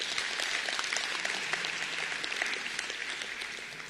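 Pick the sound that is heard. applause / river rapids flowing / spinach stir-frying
applause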